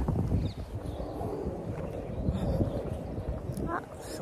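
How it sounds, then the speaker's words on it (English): Wind buffets the microphone with a steady low rumble and gusty roar throughout, loud and continuous. "It's just the wind."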